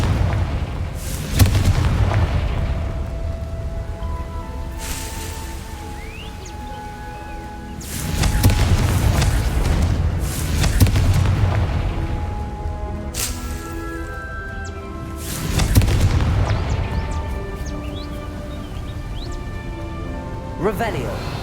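Confringo blasting spells go off in Hogwarts Legacy. Several loud, booming explosions land a few seconds apart with rumbling tails, mixed with ambient game sounds and spoken dialogue.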